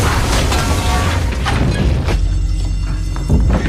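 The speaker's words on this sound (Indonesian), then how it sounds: "Ia kemudian meracik barang-barang tersebut menjadi bom yang menyebabkan ledakan kecil terjadi di tempat medut." A small homemade bomb made with a soda bottle goes off as a loud, dense burst of boom and clatter, then settles into quieter rumbling with a final thud near the end.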